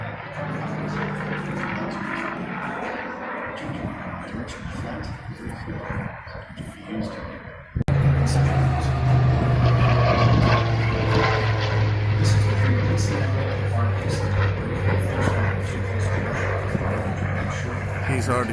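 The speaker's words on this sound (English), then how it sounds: "Some very cool engaging Japanese zeros." Japanese Zero propeller fighters flying at an air show, a steady engine drone that jumps abruptly louder halfway through and stays strong with a low throbbing tone, overlapped by commentary on a loudspeaker.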